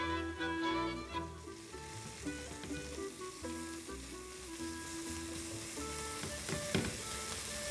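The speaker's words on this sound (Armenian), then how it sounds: "պատրաստում ենք սոխառած նույն տապակի մեջ" Onions sizzle and crackle steadily in a hot frying pan, a dense frying hiss that continues throughout, with soft music faintly underneath.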